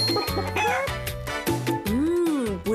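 A farm chicken clucks and crows loudly up close in a run of rising, squawking calls, heard alone in a television commercial.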